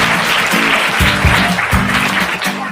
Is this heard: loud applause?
yes